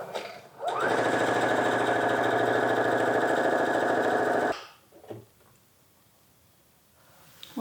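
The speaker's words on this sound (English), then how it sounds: "Place your presser foot back down and continue sewing." A sewing machine runs a steady, rapid stitching burst of about four seconds along a fabric waist tie for a dress, then stops, leaving faint handling noise.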